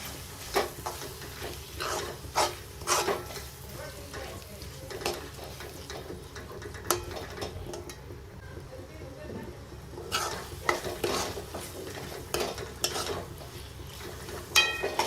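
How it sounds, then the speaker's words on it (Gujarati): Boiled chickpeas being stirred into fried masala in a pan produce repeated scraping and clinking of a spoon against metal over a soft sizzle, with a person talking throughout. "છોલેને સારી રીતે પેલા મસાલામાં મિક્સ કરી લઈએ."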